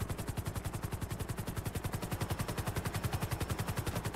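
Video-game gunfire rattles out as one long, rapid automatic burst with evenly spaced shots, faint and distant throughout.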